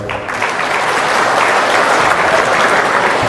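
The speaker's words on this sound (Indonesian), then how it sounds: "tepuk tangan untuk beliau" A large audience at an official event claps for the Minister of ATR/BPN, a dense, loud burst of applause that quickly swells and holds steady, with little talk over it.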